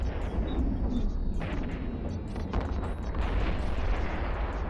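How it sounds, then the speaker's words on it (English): A ship blows up in EVE Online with a dense, roaring rumble that stays loud and sustained throughout, with sweeping high synthetic streaks over the blast. "And now we're gonna get a beautiful explosion."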